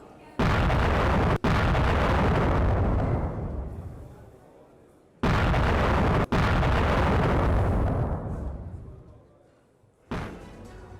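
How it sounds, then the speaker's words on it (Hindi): Three heavy blasts from a Storm Shadow missile strike on a Russian weapons depot, each a sudden loud boom followed by a long rolling rumble that fades before the next detonation. "यूक्रेन के मिसाइल हमले में रूसी हथियार डिपो तबाह हो गया"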